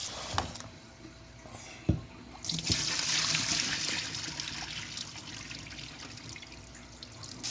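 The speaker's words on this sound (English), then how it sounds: "So you have to wash your rice." Rice being washed in water for Jamaican stew peas with white rice, steady trickling and swishing water with a few clunks and splashes, close and continuous, no talking.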